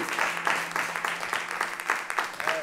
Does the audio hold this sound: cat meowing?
no